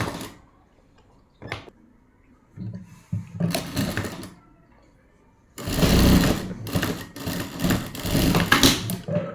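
A sewing machine stitches the shoulder seam of a round-necked garment in a loud, rapid mechanical whir. It runs in a short burst, then a longer steady run after quieter handling noises, with speech in between.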